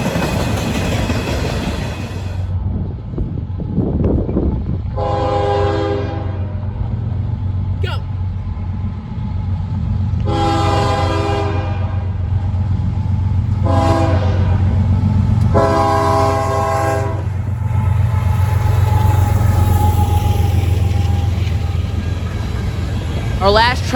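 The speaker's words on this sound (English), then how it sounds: "Our last train at Porter Junction for the day was NS-17B, a daily mixed manifest train out of Elkhart, Indiana" Norfolk Southern NS-17B mixed manifest freight train passing Porter Junction in Chesterton, Indiana, a continuous low rumble of cars rolling by with the horn sounding in several long blasts, loud and near.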